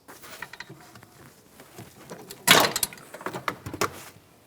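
A pry bar works a fuel line off the filler neck of a 2007-2017 Jeep Patriot: soft scraping and ticking build to a sharp metallic pop as the line breaks free, followed by scattered clicks and knocks, close and moderately loud.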